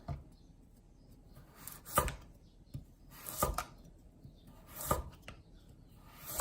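A knife slices through eggplant on a cutting board, four distinct crisp chops spaced a second or so apart, close by and otherwise quiet.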